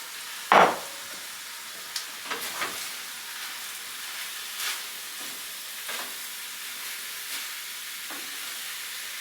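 Peppers and onions dropped into a pan of American goulash with beef and broth, a sharp loud burst at first, then a low steady sizzle with a few scattered stirring clinks and scrapes.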